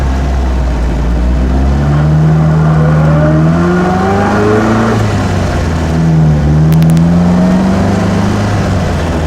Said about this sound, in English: The car drives like just a nice old TD.